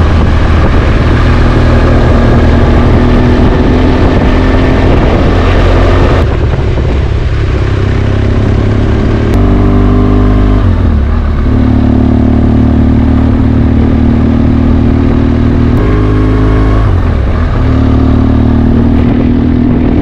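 A motorcycle engine runs loud and close, idling with a steady throb and a few brief shifts in pitch.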